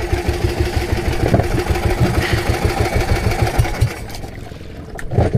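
A fishing boat engine idles nearby at sea with a steady, rapid thudding pulse, then cuts out and goes quiet before a brief noise at the end.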